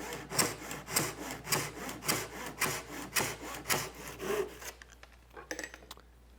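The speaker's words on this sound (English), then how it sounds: "Get my saw into the kerf." A fine-toothed hand saw cuts a small ebony blank butted against a stop block, about a dozen steady back-and-forth strokes in an even rhythm, close and clear, before stopping with a few light taps and handling sounds.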